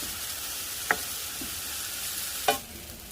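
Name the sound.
onions sauteing and sizzling in a pan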